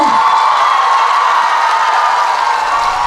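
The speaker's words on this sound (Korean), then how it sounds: "큰 박수 한 번만 주시겠어요?" An audience at a singer's stage appearance at the Ulsan health fair applauds and cheers, a loud, steady wash of clapping that holds evenly for the whole stretch.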